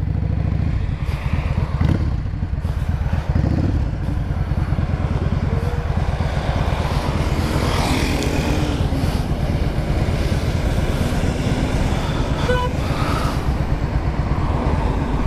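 A 2003 Yamaha Drag Star 650 motorcycle riding on a road, its engine droning steadily and loud throughout with wind rush and occasional throttle changes, no talk.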